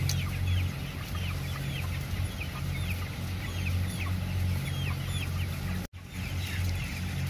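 A large crowd of chickens in a poultry house clucks and chirps constantly over a steady mechanical hum, with a brief dropout near the end.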